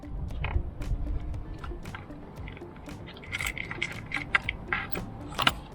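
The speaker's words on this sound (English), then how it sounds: "Now to remove the last bolt." Metallic clinks and jangles of a bolt and tools being worked loose from a GIVI crash bar on a 2023 Triumph Tiger 900 GT Pro motorbike, close by, with sharp irregular taps over a low rumbling background.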